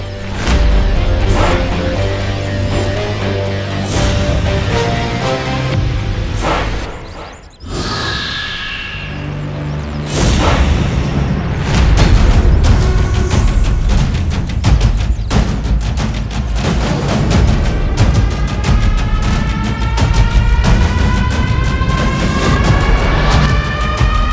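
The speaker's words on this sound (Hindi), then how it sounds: "इस बार बढ़िया सा धमाका सुनाता हूँ, भारत नगर में बड़ा सा ब्लास्ट करके" Loud, sustained blasts and crashing booms rumble on for a long stretch, dense with debris-like clatter and a brief dip before resuming.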